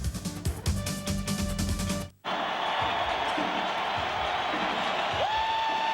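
A college football stadium crowd roars in a steady, loud wash of massed voices and cheering, preceded by a brief stretch of other broadcast sound that cuts out abruptly before the crowd noise takes over.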